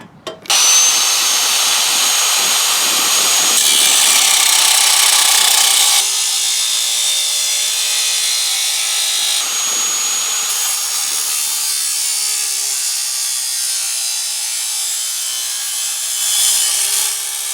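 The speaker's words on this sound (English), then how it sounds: "I'll chop it up on the saw" A power saw cuts through car intake piping in one loud, sustained grinding pass lasting several seconds, its pitch shifting as the blade bites, then easing down toward the end.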